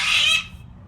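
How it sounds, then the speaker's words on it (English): A bird lets out one brief shrill squeal lasting under half a second, fairly loud and close, which then breaks off into near silence. "Birds."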